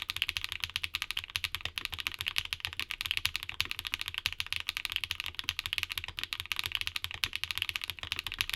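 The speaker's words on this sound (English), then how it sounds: "Here's the sound test for these Shanghais." Typing on a mechanical keyboard fitted with Shanghai switches: a dense, continuous stream of bright, clacky keystrokes, close and steady, with no talking.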